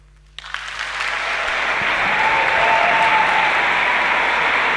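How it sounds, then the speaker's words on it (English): Audience applause at a business conference workshop, bursting in after near-silence and swelling quickly into dense, steady clapping from a large crowd that holds loud and full to the end. "Come on, give him a round of applause"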